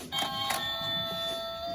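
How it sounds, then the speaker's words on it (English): A small electronic toy dollhouse doorbell rings with two quick tones, then the bright tonal ring lingers and fades, thin and toy-like. "as you can see, there's a doorbell on it."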